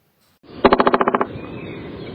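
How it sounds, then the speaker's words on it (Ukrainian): A woodpecker drums in a rapid burst of about ten sharp knocks, followed by a softer rushing noise that fades out. "Вірно, діти, це дятел."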